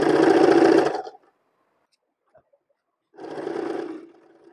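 A sewing machine stitches an organza slip step in two loud, close bursts of whirring, split by a pause of near silence.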